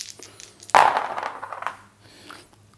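Dice clatter and rattle across a surface during a board game of The Dwarves, in one quick burst that tumbles and fades over about a second. No one speaks.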